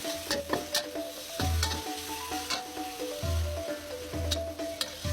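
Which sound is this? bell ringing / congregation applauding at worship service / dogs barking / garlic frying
garlic frying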